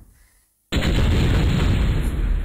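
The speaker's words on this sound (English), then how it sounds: "I'll have to spam airstrikes on him." Airstrike explosion in the MechQuest video game, a sudden loud synthetic boom after a brief quiet moment, sustained as a dense roaring rumble to the end.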